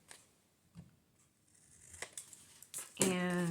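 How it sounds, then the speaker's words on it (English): Scissors snip gold-painted white cardstock into a tag, a few separate close cuts with crisp rustling between them, followed by a brief tonal sound at the end. "So I think I will cut this into a tag."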